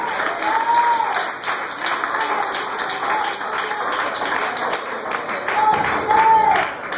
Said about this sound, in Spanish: Dale un aplauso a Cristo, alabado sea Dios.